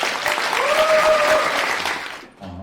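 Loud, close audience applause opens the 2024 Dreaming Traveler open lecture, a dense burst of clapping with a brief whistle that cuts off abruptly before a voice begins.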